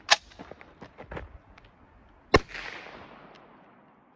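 An SKS rifle is fired at a hardened caulk target outdoors, with one sharp, loud crack and echoing tail in the middle, preceded by an earlier sharp bang and scattered smaller knocks and rustles.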